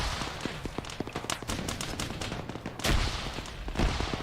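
Continuous distant-to-mid gunfire in an Arma 3 battle, with many rapid overlapping shots and crackling bursts, plus a couple of heavier thumps near the end, all fairly subdued and with no voices.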